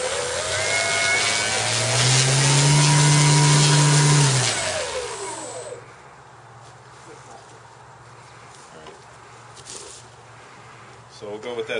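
An electric motor on an RC Extra 330 model plane runs with a loud, steady mid-pitched whine that rises and shifts pitch. After about five seconds it drops to a quieter, steady hum.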